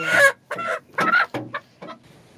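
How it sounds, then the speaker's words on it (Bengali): A large rooster clucks in short, loud bursts, four or five close, throaty calls in quick succession with brief pauses between them. "দেখো কত বড় মোরগ"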